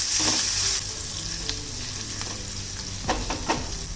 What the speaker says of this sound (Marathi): मिरची घालूया बारीक चिरलेली.